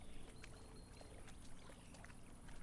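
Quiet, continuous water splashing and lapping in the video game Microsoft Flight Simulator, with small trickling ticks scattered through a soft, even wash and no voices.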